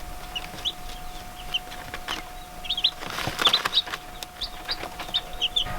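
Young chicks peep in short, high chirps, scattered and repeated at close range over a quiet background, with soft clucks among them and a faint steady hum underneath.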